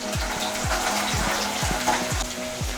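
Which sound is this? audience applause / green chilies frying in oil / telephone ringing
green chilies frying in oil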